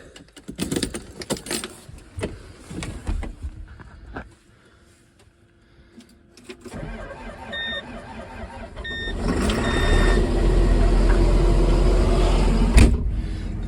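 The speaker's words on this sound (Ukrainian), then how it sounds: "Пробуємо заводити." A vehicle engine is cranked and started on a cold winter day after standing six or seven hours; keys jangle and clatter first, then the engine catches and settles into a loud, steady running roar.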